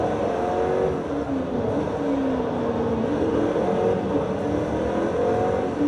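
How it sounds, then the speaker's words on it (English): Race car engine in Forza Motorsport 3, a steady loud drone with rising and falling pitch as the car accelerates and shifts, continuous and unbroken, with no talk. "This car sounds pretty fierce."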